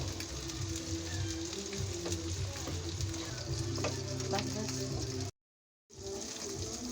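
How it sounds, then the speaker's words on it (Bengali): Ridge gourd fries with catla fish curry spices in a pan, a continuous close hiss with scraping stirs and light clicks, broken by a brief dropout near the end. "গাইস একটু নাড়াচাড়া করে"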